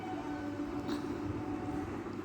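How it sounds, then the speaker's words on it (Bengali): A train pulls away from a station platform on a festival day, its steady low rumble and rolling wheel noise filling the background at moderate distance with no talk over it. "আর ট্রেনটা চলে গেল।"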